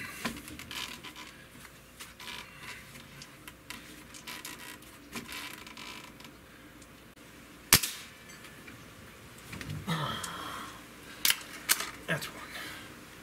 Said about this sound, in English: Let's just shoot five shots.